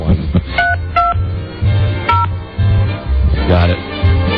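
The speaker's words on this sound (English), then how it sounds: "I dialed a 3 instead of a 5." Telephone keypad dialing tones from a radio show studio phone: several short dual-pitch beeps in an irregular sequence, sitting over a steady low hum and background talk.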